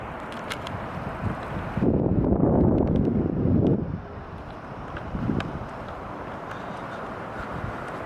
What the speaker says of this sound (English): Might be a little bit windy,